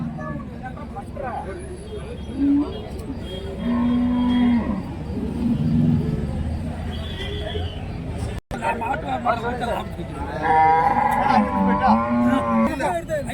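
Several low moos from cattle amid a busy crowd at a cattle market in Karimangalam, Dharmapuri district, with people talking loudly nearby throughout.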